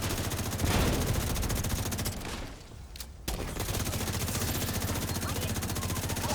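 Dense, continuous automatic gunfire and grenade blasts from the Rise Up Scout 2 video game, loud and sustained throughout apart from a brief lull near the middle.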